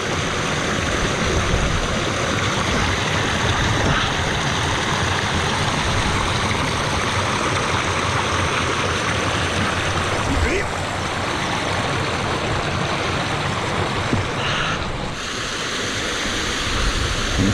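Small waterfalls on Blackden Brook on Edale Moor give a steady, close rushing roar of falling water that fills the whole stretch without pause.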